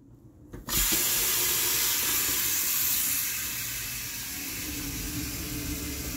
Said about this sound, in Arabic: طبعا مجرد فتحنا المي السخنة هلا